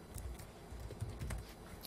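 Quick bursts of keystrokes on a computer keyboard while entering text in the GDevelop game editor, close-miked soft clicks in an uneven rhythm with no voice.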